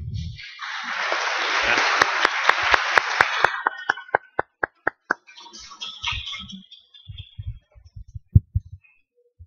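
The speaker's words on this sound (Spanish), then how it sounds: "Pido un aplauso para el maestro." Conference audience applauding an inaugural keynote speaker at a national forum of information professionals, a broad burst of clapping that breaks up into a slowing series of sharp, isolated claps and a few soft knocks.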